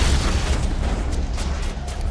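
Grenade explosion in Mass Effect on Feros, a loud, continuous low rumbling boom with a few crackling bursts, filling the moment without any pause.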